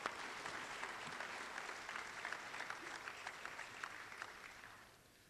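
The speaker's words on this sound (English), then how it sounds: "applause" A crowd claps steadily at a commencement ceremony, the dense applause holding for several seconds before tapering off at the end, fairly distant and soft.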